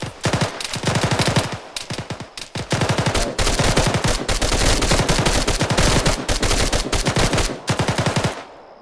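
Arma 3 multiplayer combat with sustained machine-gun and rifle fire in dense, rapid bursts, loud and close, with brief pauses between volleys.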